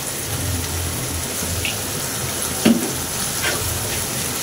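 Noodles coated in tomato ketchup sizzle and fry in a pan while being stirred, giving a steady crackling hiss with a few louder scrapes of the spoon against the pan.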